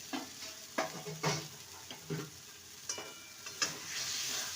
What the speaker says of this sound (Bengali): ভালো করে মশলার সাথে দু মিনিট নেড়ে নেব